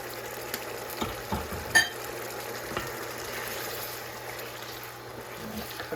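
Cherry tomatoes sizzle in a pan with wine, giving a soft, steady frying hiss broken by a few faint stirring clinks and scrapes, with no talk.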